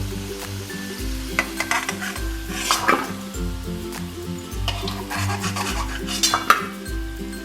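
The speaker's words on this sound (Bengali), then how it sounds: "দেখুন আলুগুলো আমার ভাজা হয়ে গেছে লাল লাল করে" Potatoes frying in oil in a pan, close sizzle under repeated metallic scrapes and clinks of a spatula against the pan, with a low rhythmic hum in the background.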